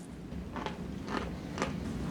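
Crunchy muesli with raisins, banana, coconut and oat clusters being bitten and chewed dry, three distinct crisp crunches close to the mic over a quiet background.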